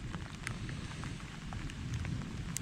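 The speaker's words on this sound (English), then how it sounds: "Doesn't help that it's raining" Rain falls outdoors beside an above-ground pool, a faint, steady patter of scattered drops over a soft low background wash, quiet and even for a couple of seconds.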